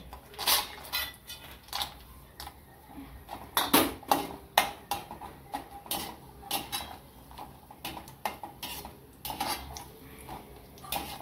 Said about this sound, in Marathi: आता आपण थोडेसे काजू भाजून घेऊ।